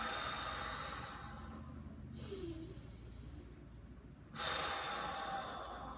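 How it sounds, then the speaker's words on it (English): Slow, deep breaths drawn in through the nose and let out through the mouth during a side-lying trunk exercise, with a long hissing exhale, a quiet pause, then another breath, all close to the microphone. "I'm going to take 5 deep breaths here."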